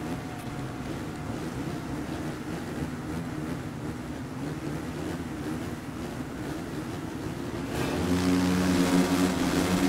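Motocross motorcycle engines in the MXGP 3 video game roar together at a race start, a steady dense drone that swells louder near the end, with no talk over it.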